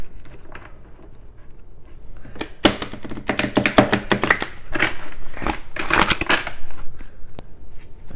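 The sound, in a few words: shuffling a deck of cards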